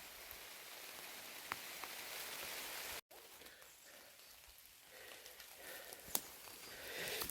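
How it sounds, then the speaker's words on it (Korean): Heavy rain pours steadily through a forest on a misty mountain hike, a dense, loud hiss of drops on leaves with a few sharper drips standing out, and no voices. "비 진짜 엄청 쏟아집니다"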